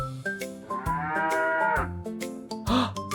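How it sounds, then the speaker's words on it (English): A cow moos in a long drawn-out low call, close and clear, set over a light children's music background with no talking. "That's right, it's a cow."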